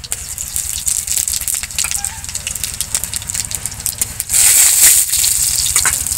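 Dried red chilli and half a green chilli tempering in hot oil for a prawn and greens chachchari, a steady close crackling sizzle that swells louder near the end, with no talk.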